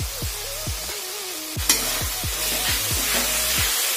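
Spice paste cooking in oil in a pan gives a loud, steady sizzle with a series of rhythmic scraping strokes as it is stirred, and one sharp clack partway through.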